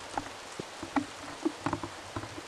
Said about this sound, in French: Il fait vraiment une grosse pluie là.